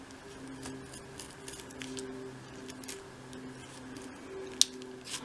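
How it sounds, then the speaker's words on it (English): A craft knife lightly scores and then cuts deeper through a section of material for a 1/12th scale model project, with soft scraping and small clicks, quiet and close, and one sharp snap near the end. "Start just with a light score, and then gradually go a little bit deeper until you cut that section away."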